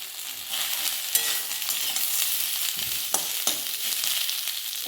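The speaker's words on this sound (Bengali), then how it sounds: "বেগুনটা ভালো করে ভাজা হয়ে গেছে, এর মধ্যে আমি পেঁয়াজটা দিয়ে দিচ্ছি।" Onion tossed into a pan of fried eggplant, frying with a loud, steady hiss of oil while a spatula clacks and scrapes a few times as it's stirred.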